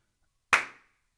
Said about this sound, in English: yeah, that's a good clap